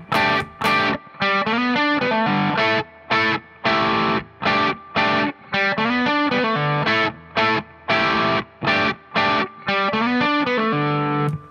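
Distorted electric guitar plays the chopped, rhythmic intro riff of a song, with bursts of chords separated by short sharp stops, loud and alone.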